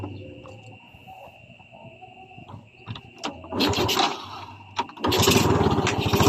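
A Yamaha Vega 115 motorcycle with a carburetor cranks several times with sputtering attempts, then catches and runs loudly at close range, no speech.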